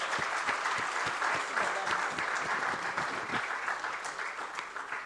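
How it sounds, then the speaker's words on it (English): A conference audience at an annual workshop gives the panelists a warm round of applause: dense, steady clapping from many hands that carries on evenly and fades slightly at the end, with no speech on top. "give a very warm round of applause to our panelists"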